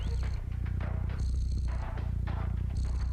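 Cat purring in a Stray game trailer, a steady low rumbling purr throughout, with faint music and other sounds layered on top.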